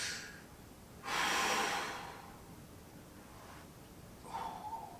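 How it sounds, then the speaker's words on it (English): A single deep breath taken during a seated mobility exercise, a broad airy inhale rising near the start and easing away over a couple of seconds, followed by a softer exhale toward the end, close and quiet with no talking. "Take one deep breath."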